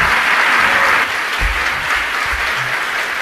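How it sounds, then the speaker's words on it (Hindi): An audience at a Jain religious discourse claps steadily, a dense, loud wash of applause that holds at full strength, then eases slightly and continues. "तालियां अच्छे से बजाइए ना आप लोग।"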